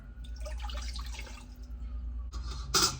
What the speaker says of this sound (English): And then to that pot, we are going to add 2 cups of water.